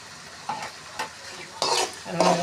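Tempering spices hiss and crackle in hot oil for a mushroom curry, with a few sharp bursts of sizzling as things are stirred or dropped into the pan, close and fairly quiet.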